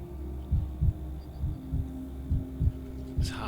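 A heartbeat in Pathologic 3 thumps in a slow, even double-beat rhythm, about four pairs of low pulses over a faint steady hum, with a brief bright sound at the end.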